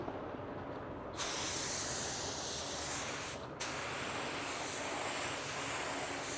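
An LVLP spray gun lays down another coat of paint from a small compressor setup, a steady close hiss that cuts in sharply after a second, dips briefly midway, then resumes alone without talk.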